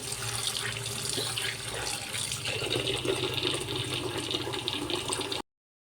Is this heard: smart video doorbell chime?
no